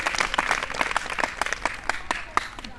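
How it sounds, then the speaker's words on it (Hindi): Crowd of students applauds steadily at a police inspector's talk in a girls' college, a dense patter of many hands clapping for a few seconds. "बजाइए, अपने लिए तालियां बजाइएगा।"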